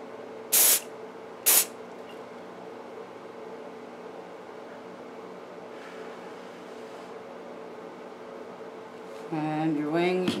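Two short hissing bursts of an aerosol spray over glue on a Breyer Stablemate model horse, close by, against a quiet background, with a brief voice near the end.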